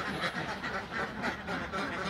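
Laying ducks on a duck farm quack in repeated bursts, a flock calling together at close range with a steady chattering rhythm and no talk over it.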